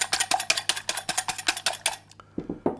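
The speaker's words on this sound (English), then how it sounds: "mix our eggs together" Eggs whisked in a bowl for blueberry muffin batter, a quick run of about a dozen sharp, rhythmic clinks of utensil against the bowl, close and clear, ending with a few softer scrapes.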